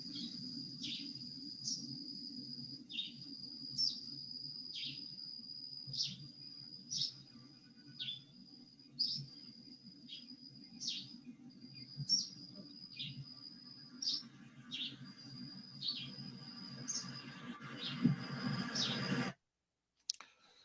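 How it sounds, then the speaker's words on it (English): A yellow-green vireo sings a series of short, sharp, chirpy phrases repeated at a steady pace over a low background hum, ending abruptly. "Here's a yellow-green Vireo singing."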